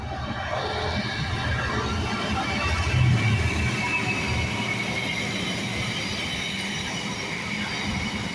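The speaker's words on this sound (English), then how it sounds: "Here comes a Freightliner 66 519." Freightliner Class 66 diesel locomotive 66519 hauling a freight service to Felixstowe through Stowmarket station, a loud, steady, close rumble of wagons with a faint wheel squeal, no voices.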